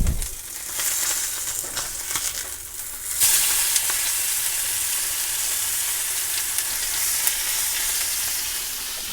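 A sous vide salmon fillet, cooked from frozen, sears in a hot pan after being flipped, producing a loud, steady, close sizzle and crackle with a sharp surge at the flip.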